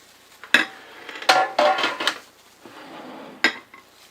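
Clinks and scrapes as breading mixture is poured from a larger mixing bowl into a smaller ceramic bowl for frying chicken, a few sharp knocks and a soft sliding pour, close and alone.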